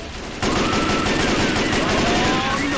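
Continuous rapid gunfire from survivors shooting zombies in Left 4 Dead 2, a dense, loud automatic rattle that begins abruptly and runs without pause.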